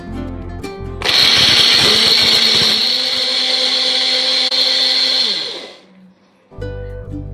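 A kitchen blender grinds muskmelon with sugar, cold milk and almonds into a milkshake, roaring loud and steady for about four seconds before winding down, with quieter clatter before and after.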